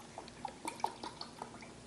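Cauliflower cooking water is poured into a measuring cup in a home kitchen, giving a quiet trickle with scattered small drips and splashes over about two seconds, with no talking.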